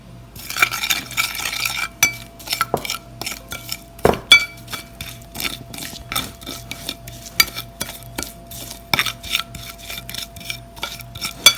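Vinegar being mixed into ingredients in a bowl for a chicken zinger burger, with rapid repeated clinks and scrapes of a spoon against the bowl, brisk and close, with no one speaking.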